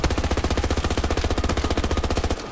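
Rapid, steady automatic fire from a P90 submachine gun in Battlefield 2042, a loud close burst of evenly spaced shots that runs unbroken for over two seconds before stopping abruptly.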